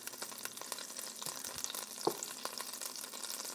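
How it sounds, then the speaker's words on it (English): Butter and olive oil sizzle together in a pan for a seafood scampi pasta, a quiet, even crackling fry with small pops and one brief knock, no talking. "Just make sure your butter is melting."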